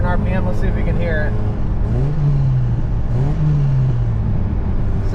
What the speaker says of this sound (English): we have developed a new sound in the 4Runner. It only does it around a certain RPM.